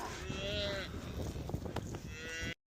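A cow mooing outdoors on a ranch during snowy calving season, a long drawn-out bellow close by followed by a lower second call, with rustling and movement around it.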